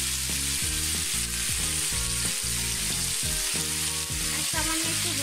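Sweet potato pieces frying in oil with salt and a little turmeric, a steady close sizzle throughout with occasional soft stirring knocks and no talk.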